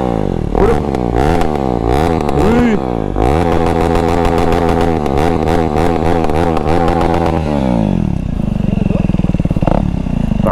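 A vehicle engine revving hard after a water crossing, loud and close with repeated rising and falling throttle surges, then settling into a rougher idle.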